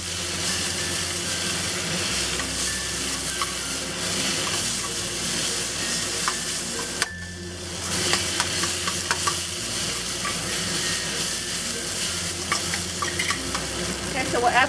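Tofu, okra and mushrooms stir-fried with sesame oil, white pepper and dark soy sauce in a wok, a steady loud sizzle with repeated scraping tosses of the spatula throughout, a brief lull midway before the clatter resumes.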